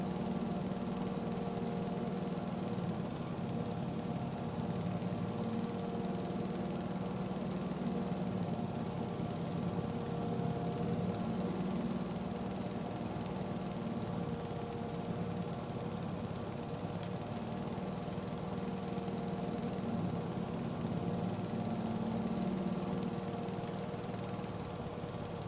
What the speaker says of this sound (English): So far, I'm really liking this Kubota mower. Seems like it's doing a really good job here.